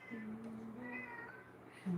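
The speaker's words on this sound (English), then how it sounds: "You hear my cat, Slinky?" A cat meows in a drawn-out, wavering call indoors, quiet and slightly distant, followed by a brief louder sound at the end.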